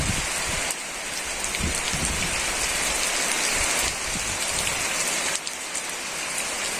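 Heavy rain pours down in a countryside village beside a pine plantation, a dense, constant hiss of drops on surfaces that fills the whole stretch with no voices.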